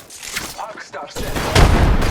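Gunfire in the Apex Legends shooter: scattered shots and rapid bursts that build to a loud, dense volley near the end, mixed with game sounds and a character's voice.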